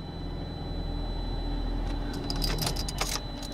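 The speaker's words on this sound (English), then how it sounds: "The engine is running" A car engine idles with a steady, low, even hum just after being started, and a few light metallic jingles come in partway through.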